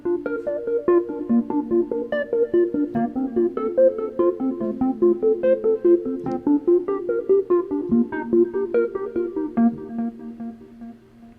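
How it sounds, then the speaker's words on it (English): A square-wave synth arpeggiator preset, Fair and Square 1, pulses in a steady rhythmic pattern of repeated notes, moderately loud and alone. "we're using another arp that we use especially during the verses. This one is called Fair and Square 1"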